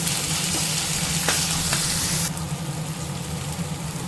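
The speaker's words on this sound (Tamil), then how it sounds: "சின்னதாக ஒரு தக்காளி கட் பண்ணி சேர்த்துருக்கேன். அதுவும் நல்லா வதங்கட்டும்." Chopped tomato sautéing in a pan for a spiced potato stir-fry gives a steady, close sizzle, with a brief scrape of stirring partway through and the hiss softening slightly toward the end.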